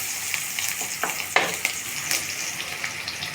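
Chopped garlic frying in a pan of hot oil, a continuous close sizzle with occasional stirring scrapes and bursts of louder crackle.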